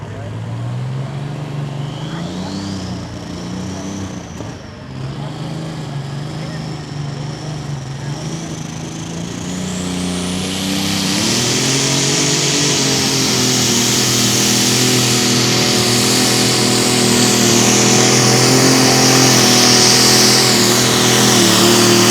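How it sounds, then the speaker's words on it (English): A John Deere alcohol-powered pulling tractor from Morrison, Tennessee roars loud and close during a pull, its engine climbing to a higher, harder drone about halfway through and holding there. "the John Deere alcohol powered tractor out of Morrison, Tennessee"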